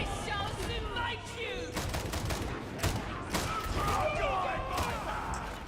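Gunfire in Warhammer 40,000: Darktide, with dense shots and bursts mixed with game effects and voices throughout, steady and loud.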